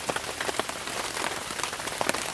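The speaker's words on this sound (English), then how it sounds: "the rain's not letting up" Steady rain pattering on a campsite in the Uwharrie woods, a dense continuous hiss of drops with scattered brighter taps, moderately close and unbroken for the whole stretch.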